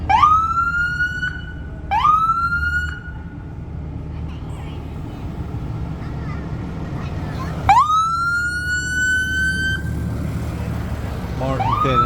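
A county ambulance siren passes on a road in rural Tennessee, loud and close, with rising wails and short yelps repeating over a rumbling engine.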